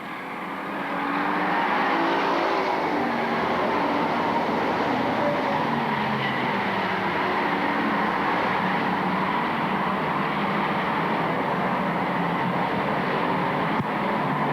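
Bomber-class race cars racing at Lakeport Speedway, a continuous loud roar of several engines running together as the field circles the track, without commentary.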